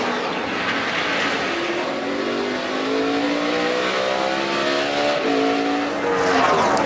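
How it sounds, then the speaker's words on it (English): A NASCAR stock car at the 2012 AAA Texas 500 accelerates hard away from its pit stop after a four-tire change, the engine note climbing through the gears, loud and close, with no talk over it. "left rear, 4 tires, and Johnson's away"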